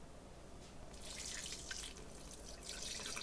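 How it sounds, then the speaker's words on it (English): Water poured into a mixture for Christmas sweets, a soft continuous splashing trickle with brighter bursts as the stream lands, steady and close with no talking. "now I need to add my water"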